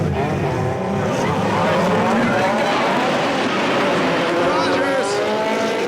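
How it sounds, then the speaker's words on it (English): Formula Drift race cars, including a Nissan and a turbocharged 180SX, drift in competition with loud continuous engine roar and tire squeal, steady and close for several seconds, with an announcer talking over it. "16 is the blonde from Japan, Yokonobu Okubo, driving the world-famous Signalato Nissan against the turbo boost of Derek Rogers and the Cooper Tires kit replica"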